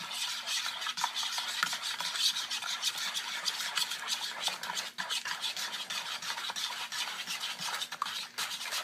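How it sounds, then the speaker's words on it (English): Pumpkin pie filling with cinnamon being mixed in a bowl turned by hand, a close, continuous rhythmic scraping and swishing of the utensil, fairly quiet, with no voices. "I like to kind of turn my bowl as I mix."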